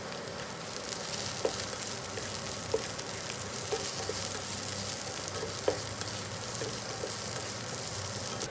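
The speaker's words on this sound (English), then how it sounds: "Add 50 grams of Beansprouts to the pan and continue to fry for 2 minutes." Beansprouts frying in sunflower oil in a pan make a continuous crackling sizzle, punctuated by small periodic spatters and pops at a moderate, even level.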